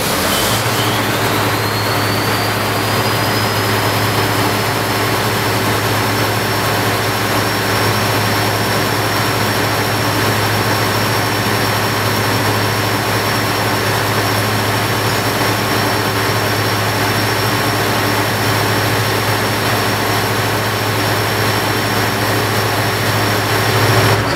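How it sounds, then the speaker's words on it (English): An engine rumbles and hums continuously at a steady, loud idle, with a rising whine settling into a constant high tone after start-up. "So we're going to start the engine."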